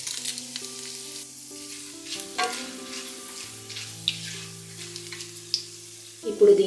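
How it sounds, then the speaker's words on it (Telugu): Chana dal, mustard seeds and cumin fry in hot oil for upma, a steady soft sizzle with occasional pops and stirring scrapes under quiet background tones. "శనగపప్పు 1 స్పూను, ఆవాలు 1 స్పూను, జీలకర్ర 1 స్పూను వేసుకోవాలి. వీటిని మనం బాగా వేయించుకోవాలి."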